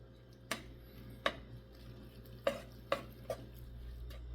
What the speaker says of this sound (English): now I have 1 large egg, just kind of lightly beaten, and I'm going to stir that into the noodles